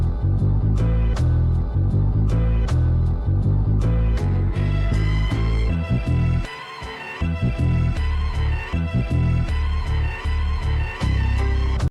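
Two chopped samples from a soul song are joined into one continuous loop. The music plays loud and dense, with a brief dip near the middle and no voices over it.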